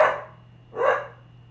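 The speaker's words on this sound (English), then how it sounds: "What you barking at?" A dog barks twice, close and loud, the two short barks spaced under a second apart with quiet between them.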